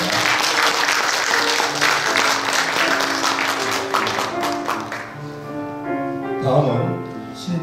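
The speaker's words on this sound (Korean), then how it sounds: "박수 부탁드리겠습니다." A church congregation claps steadily for several seconds during a Sunday worship service, the applause tapering off as a speaking voice and soft background music carry on.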